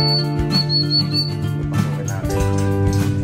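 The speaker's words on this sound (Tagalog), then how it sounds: "Nagbababa na isa-isa 'yung ating mga kalapati dito na." Pigeons settling one by one around a loft, with steady tonal calls and soft whistling chirps sustained throughout over a constant low background hum.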